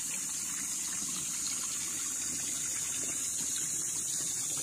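Spring water flows and gushes steadily beside a river at a farm in Calauan, Laguna, Philippines, a continuous broadband rush with a bright hissing edge, no voices.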